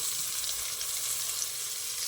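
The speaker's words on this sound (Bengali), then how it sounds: "টমেটোটা একটু ভেজে নেব মশলার সাথে মশলাটা একটু ভাজা হয়ে গেছে" Tomato and spices frying in a pan of oil for a Bengali fish curry, giving a steady, close sizzle that hisses evenly throughout with no one speaking.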